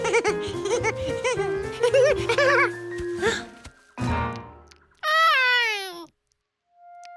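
A strange cat meows in a long, rising and falling cry near the end, loud and close, following a stretch of cartoon voices and music.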